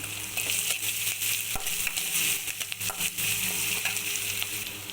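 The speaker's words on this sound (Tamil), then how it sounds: "அந்த இஞ்சி பூண்டு பேஸ்ட்டு பச்சை வாசனை போகிற வரைக்கும் நல்லா ஃப்ரை பண்ணிக்கோங்க" Ginger garlic paste frying in oil in a pan for egg roast, a continuous close sizzle with brief scraping and tapping of a spatula stirring it, no voices.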